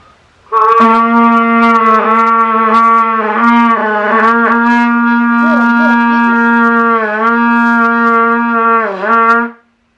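A single low open C on trumpet held steadily for about nine seconds, loud and close, with slight wavers before it cuts off.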